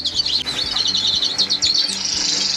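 Bullfinch song from an archive recording of a cage bird, a run of soft, fluting chirps and whistles repeating steadily, close and clear over a faint low background hum.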